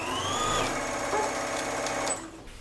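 A Brother sewing machine stitches the side seams of a skirt in very stretchy fabric, running steadily with a fast, even whir for about two seconds before stopping abruptly.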